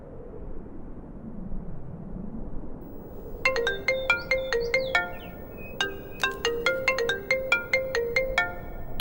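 A phone ringtone plays a bright, repeating melodic pattern in bursts, starting a few seconds in after quiet background hiss, fairly loud and close.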